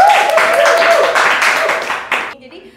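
An audience applauds at an event at a university, with uneven clapping bursts that die away after a couple of seconds while a voice talks over the start.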